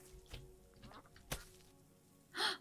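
Duck quacking in the farming game Garden Paws, a short burst of several quacks near the end after quieter in-game clicks and thumps, moderately loud and alone.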